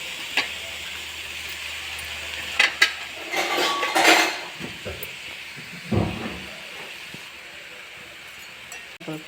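Mashed potato is mixed with salt for bonda. A spoon clinks and scrapes against the bowl in scattered strokes, with a louder burst of stirring in the middle, close by and without talk.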